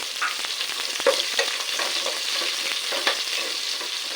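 Onion and bird's eye chilies go into a pan with shallots frying in hot oil, giving a continuous bright sizzle with a few stirring scrapes and clicks, close and steady, with no talking.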